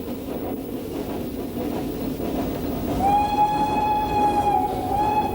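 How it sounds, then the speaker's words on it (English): A Snowdon Mountain Railway train rumbles at the summit with a steady low mechanical churn, then a loud, sustained whistle sounds and holds for a couple of seconds before cutting off. "the little train proudly panting to journey's end"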